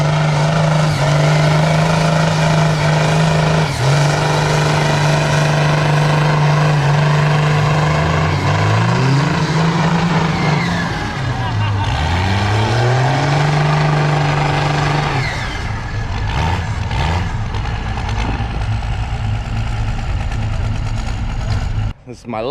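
Monster truck engines drone loud and steady at a show in Florida, a deep rumbling tone that holds, dips and swells as the revs shift, close and continuous with no talk.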